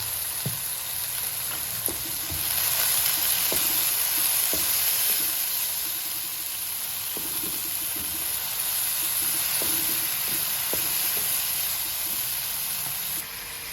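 Besan masala with coriander powder and garam masala sizzles steadily in a pan after a splash of water, a continuous close frying hiss with faint stirring clicks and no voices.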